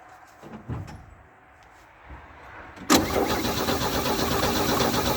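A car engine clicks and thuds a few times, then cranks over and settles into a loud, steady churning roar for the remaining seconds, close by.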